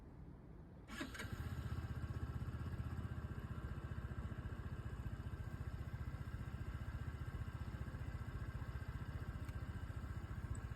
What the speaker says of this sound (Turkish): Çalıştıralım motorumuzu. Sesi belki gelir sizlere. Sesini duyun.